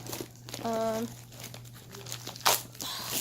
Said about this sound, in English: you kind of just have to have scissors to cut into it